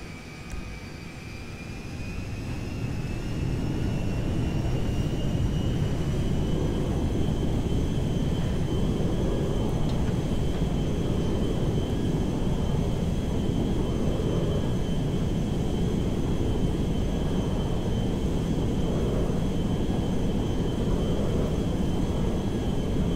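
An airplane in GTA 5 takes off, its engine swelling over the first few seconds into a loud, steady roar with a rising whine that holds to the end.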